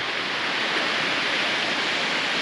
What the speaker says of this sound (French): Petite balade vers la cascade de Didier, en pleine jungle.